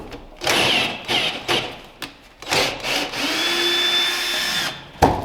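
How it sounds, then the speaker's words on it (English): Cordless power driver backing out T20 screws in the front wheel well of an Audi TT 8S MK3, several short whirring bursts separated by brief pauses, then one longer run, close and moderately loud. "Take out all these screws in the front so we can access this."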